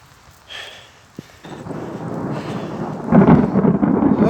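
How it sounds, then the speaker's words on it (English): Thunder rolls through a rainstorm, a low rumble building and swelling to a loud peak over a few seconds, with rain hissing steadily around it. "Lance, I love thunder and lightning, don't get me wrong, but not when I'm out in it."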